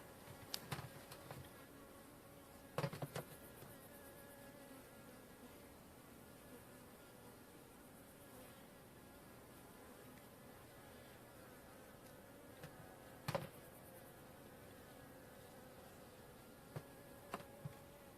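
A steady hum of many honeybees buzzing close by at an open hive, continuous and dense, with occasional clicks and knocks from handling.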